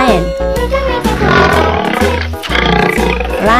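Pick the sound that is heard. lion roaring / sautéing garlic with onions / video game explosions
lion roaring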